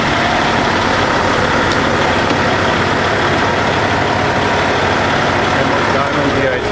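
A 2007 Kenworth W900L with a 130-inch custom sleeper idles loud and close in a continuous, even diesel rumble with no pauses.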